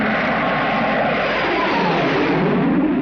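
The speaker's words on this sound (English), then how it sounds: "The Spectrum helicopter is overflying the motorcade." The Spectrum helicopter, from a 1967 Captain Scarlet and the Mysterons episode, flies over a motorcade, its engine giving off a steady, loud, unbroken roar with no talk.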